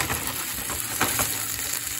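Korean pot stickers fry in hot oil with a steady, close crackling sizzle and small pops, no voices over it.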